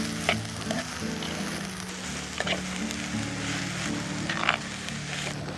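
Sliced onions sauté in oil in a pan for a fish molee, giving a continuous crackling sizzle with a few soft stirring scrapes and knocks, no voices present.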